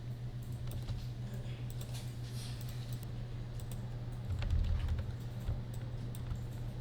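Alt, Ctrl and Shift keys tapped on a computer keyboard while scaling a shape with a free transform tool give soft, sparse clicks over a constant low electrical hum.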